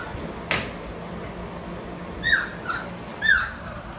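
Dog giving a few short high whimpers and yips at moderate distance, with a brief knock earlier over quiet background noise.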